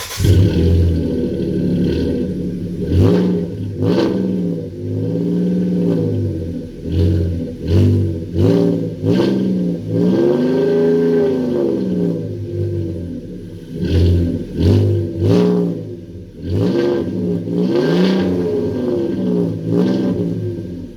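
A 2012 Ford F-150's engine revs hard again and again through a deep, throaty Flowmaster 44 Super muffler, roaring up and dropping back in loud, close bursts.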